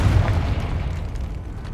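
A Confringo fire spell bursts in the Hogwarts Legacy game, a loud close boom with a heavy low-end rumble that decays over under two seconds, with no talking.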